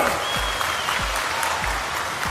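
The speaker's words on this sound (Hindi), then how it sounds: "सब ताली बजाओ" A large crowd at an outdoor political rally claps together, a dense continuous roar of applause with a few low thumps, loud and steady with no voices over it.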